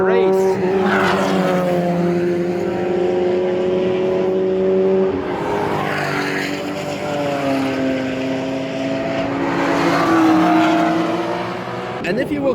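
Race cars at the Nürburgring circuit roar past loudly and close, engine tones rising and falling in long sweeping passes that nearly fill the audio, with crowd or camping noise faintly underneath.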